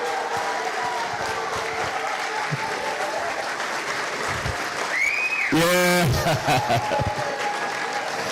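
An audience at a film festival applauds spoken word artist King B, steady clapping swelling in the middle, with a brief rising feedback-like tone and a voice speaking over it.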